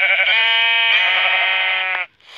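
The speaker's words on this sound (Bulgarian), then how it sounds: "О, овца!" A single sheep in Minecraft lets out one long, clear, wavering bleat, loud and close, ending abruptly after about two seconds.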